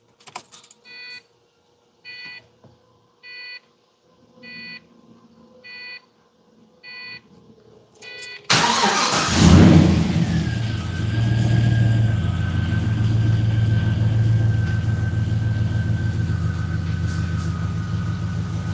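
A 2004 Pontiac GTO on a dyno: a series of short electronic beeps, then the engine fires up abruptly and settles into a loud, steady idle with a faint whine overhead.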